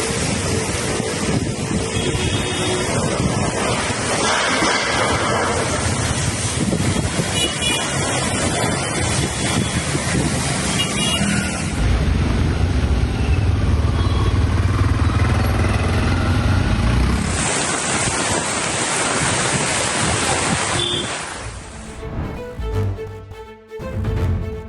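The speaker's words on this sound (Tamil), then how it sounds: "பலத்த காற்றுடன் கூடிய கனமழை வெளுத்து வாங்கி வருகிறது" Strong monsoon wind drives heavy rain in Navi Mumbai, a loud continuous roar with gusts buffeting the microphone that shifts in tone partway through before thinning out near the end.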